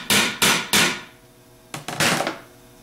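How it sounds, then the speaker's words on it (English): Three quick metallic taps ring out on a nut sitting atop the threads of a DR44G alternator post, then a brief pause and a few more closely spaced taps, sharp and near. "put the nut up on the top of the threads and tap down on it lightly"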